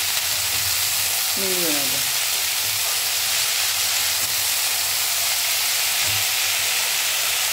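Red amaranth greens frying in a pan with garlic, onion and shrimp, giving a steady, close hiss and sizzle throughout, with a brief voice speaking over it.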